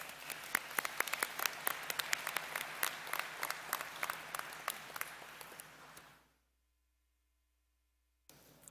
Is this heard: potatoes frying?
no